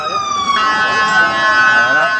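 A loud, close fire truck siren at a fire wails steadily with rising and falling pitch, filling the whole moment.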